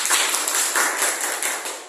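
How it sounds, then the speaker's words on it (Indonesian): Students in a classroom break into brief applause, a dense burst of hand clapping close by that fades slightly toward the end. "Tepuk tangan dulu untuk kita semua."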